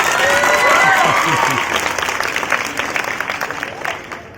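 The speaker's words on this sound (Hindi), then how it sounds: "ताली बजा दो मेरी कॉलेज का" An audience at a district-level science event claps for first prize winners: loud applause with a few cheering voices early on, tapering gradually toward the end.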